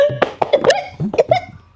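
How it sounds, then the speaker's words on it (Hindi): A burst of several short, harsh coughs close up, with a voiced, throaty quality, during a food challenge. "देखो खांसी आ गई"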